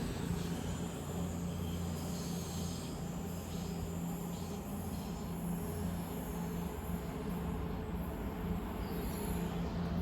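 Train 22007 pulls out of Durham station bound for Plymouth, a steady low rumble of engine and rolling wheels filling the whole stretch at moderate distance with a faint high whine on top.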